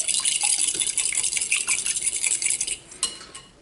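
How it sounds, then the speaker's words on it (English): Egg, mustard and Bragg's are whisked together in a bowl, with a rapid, continuous scratchy clatter of the whisk against the bowl that eases off near the end, with no talking. "You're going to whisk the egg, mustard, and Bragg's all together"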